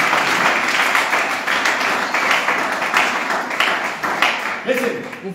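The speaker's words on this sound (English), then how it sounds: "Clap on the hand properly for the Holy Spirit." Loud congregational hand clapping in a church, a dense steady burst of many hands close by, tapering slightly near the end as a voice begins to come through.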